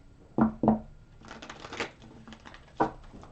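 Tarot cards being shuffled by hand: a few sharp riffling bursts with quieter rustling between, close and fairly soft, no talking.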